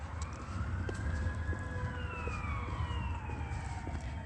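Upland Fire Department siren wailing in the distance, a rising and falling tone drifting over steady traffic and street rumble, fairly faint and continuous throughout with no talking.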